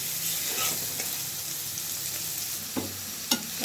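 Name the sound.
frying chopped onion and garlic in oil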